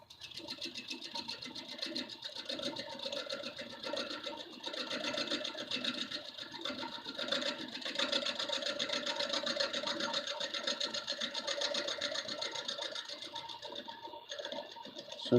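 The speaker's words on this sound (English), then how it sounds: "that's why I'm stopping the lathe all the time" A wood lathe turning a lampshade hums and buzzes steadily with a fast rhythmic chatter, moderately quiet and continuous with no talk.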